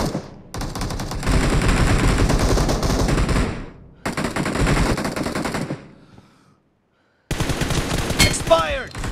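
Rapid automatic gunfire bursts from the mobile battle royale game BGMI, two long sustained volleys followed by a short pause and another burst, loud and close with clattering reports.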